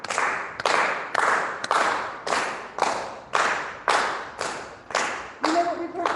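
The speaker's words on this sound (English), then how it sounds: "Everybody start that slow clap." A crowd at a youth circus gala does a slow clap, about a dozen loud, evenly spaced unison claps that gradually speed up, with a voice briefly heard near the end.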